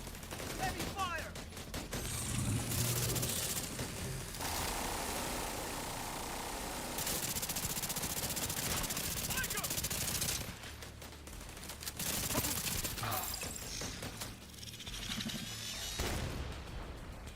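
Heavy, continuous video game gunfire, overlapping rapid volleys and bursts that keep up a dense roar, close and loud, with players talking over the battle.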